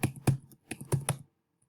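Quick keystrokes on a computer keyboard, about six close, crisp taps in an uneven rhythm, then silence.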